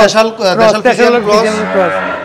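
A short, loud lowing call from a local-breed (deshi) cow close by, mixed with voices of people chatting nearby, at an Eid al-Adha cattle market in Bangladesh.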